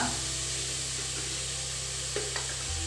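Tomatoes fry and sizzle steadily in a pan for a Tulu-style prawn coconut milk biryani, with a continuous close hiss, soft occasional scraping, and no talk.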